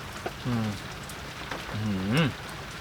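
Rain patters steadily in the background while someone speaks in short bursts over it.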